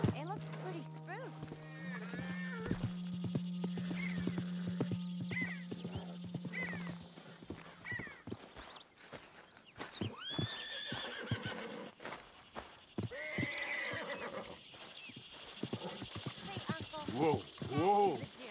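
In Red Dead Redemption 2, a horse repeatedly whinnies and neighs over clip-clopping hooves, with steady game ambience underneath and someone talking through it.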